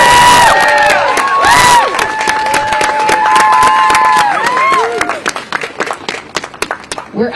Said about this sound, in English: can we actually just get a round of applause for them